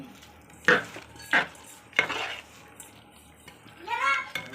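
Reduced tamarind water is poured into pickle in a pan, with a short watery splash among a few sharp pan clinks and a later burst of sizzle and stirring, heard close with a voice faintly underneath.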